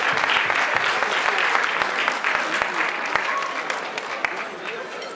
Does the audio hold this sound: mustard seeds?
no